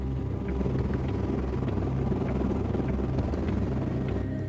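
A heavy military tiltrotor aircraft thrums steadily, a loud throbbing drone with low rumble that holds constant throughout.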